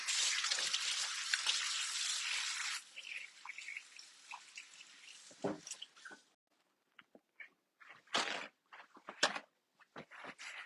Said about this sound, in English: Wash my hands because now they're greasy.